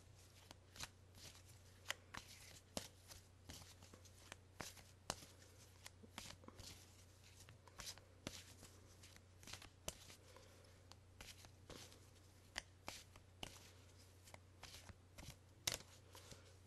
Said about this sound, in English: We'll shuffle them.